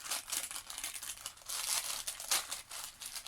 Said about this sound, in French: le papier en espérant que je ne vais pas le déchirer